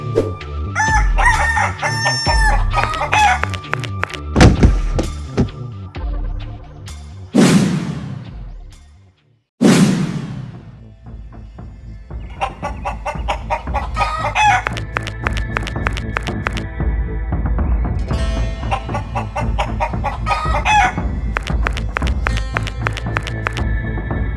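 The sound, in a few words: people imitating chicken clucking and crowing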